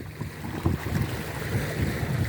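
Growing sea waves roll and wash on the shore, a continuous low roar with gusty wind buffeting the microphone and no clear breaks.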